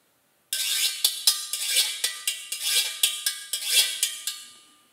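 Güiro rhythm imitated on guitar in a salsa percussion style: a steady, repeating pattern of scraped, bright strums with sharp accents, close and loud, played alone without any voices.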